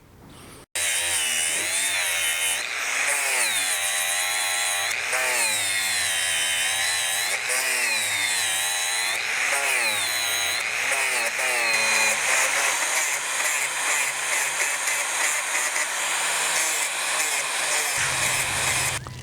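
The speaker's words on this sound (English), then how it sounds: "I'm going to clean up the pieces with the sander" A power sander works over welded forged steel bookends, whining loudly and close with pitch that swoops up and down as pressure shifts, then settling into a steadier grinding drone.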